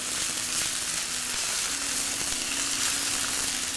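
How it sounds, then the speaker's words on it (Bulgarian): Chicken pieces searing in a very hot pan give a loud, steady sizzle and crackle of frying throughout, close up and with no voices over it. "Ето, чувате и виждате. Веднага започват да се запичат."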